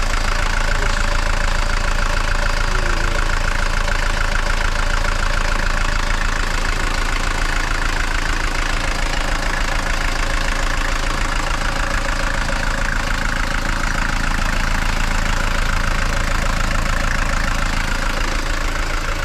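Mercedes diesel engine idling and refusing to shut off, a constant dense clattering rumble running unbroken and fairly close throughout with no talk.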